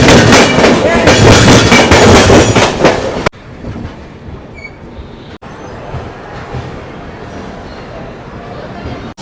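The 12703 Falaknuma Express rumbles and clatters loudly along the rails, heard from inside a packed coach, with the roar dropping abruptly to a softer steady running noise; voices are present in the background.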